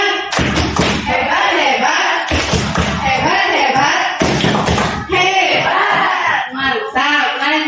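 Adults in a teacher training session perform the tepuk hebat clapping chant, loud patterned hand claps and thumps in quick bursts with voices chanting along, filling the room close to the microphone.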